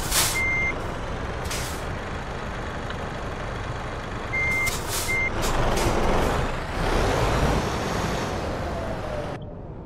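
A truck in Euro Truck Simulator 2 reversing into a parking spot, with several short high reversing beeps over a steady engine rumble and air brake hisses, fairly loud and without talk.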